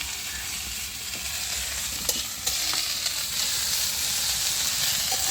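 Slit green chillies fry in a hot pan while being stirred, a continuous bright sizzle with occasional scraping knocks, close and fairly loud, with no voices.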